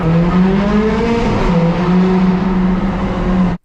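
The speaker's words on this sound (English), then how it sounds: "Today we drive the F430 Scuderia." A Ferrari F430 Scuderia, a lightweight 503 hp sports car, roars loudly and close by with a steady high engine note that rises and dips slightly before cutting out.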